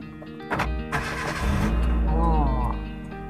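A Kia Picanto's engine cranks and catches with a swell of low engine rumble that rises and holds, close by, while people talk over it.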